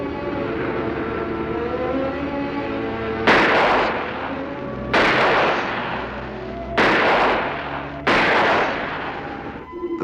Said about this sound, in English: Those shots came so fast and so close